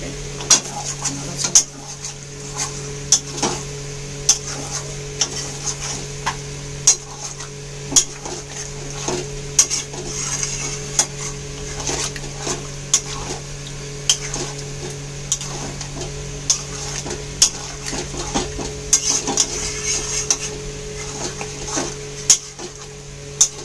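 Repeated scraping and clinking of a spoon against a pan as curry is stirred with yogurt, steady rhythmic strokes over a low hum, close by, no voices.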